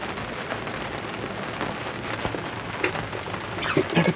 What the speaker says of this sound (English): It's a rainy day this morning.